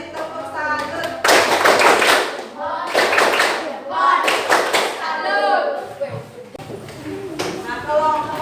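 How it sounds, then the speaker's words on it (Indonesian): Classroom applause for a student group, a burst of many hands clapping together that swells and fades in several waves, loud and close, with children's voices mixed in. "Ya, beri tepuk salut."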